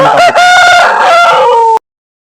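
A rooster crowing loudly and close at a poultry market, one long drawn-out call that cuts off abruptly into silence.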